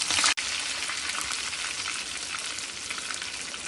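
Curry leaves dropped into hot oil with crushed, browning garlic for a sambar tempering, giving a loud, steady crackling sizzle throughout after a brief dip near the start, with no voices.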